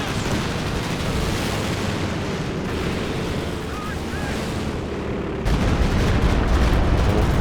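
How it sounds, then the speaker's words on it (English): Stuka barrage explosions in the strategy game Company of Heroes 2 rumble in a heavy, continuous low roar of rolling blasts that grows louder near the end. "Stuka barrage coming in now"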